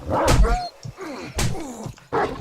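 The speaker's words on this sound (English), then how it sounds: "I see a dog. I see a wolf." Wolves and dogs in the survival game 7 Days to Die give short growling barks and yelps in three loud bursts separated by brief pauses, close and harsh with no clear speech.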